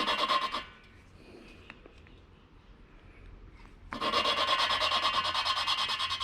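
A valve is lapped into a VW 1300 cylinder head with grinding compound, making a close gritty rubbing that runs briefly, pauses for several seconds, then resumes steadily.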